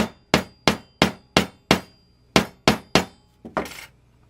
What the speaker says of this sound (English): you probably need to whack it with a hammer to get it all the way down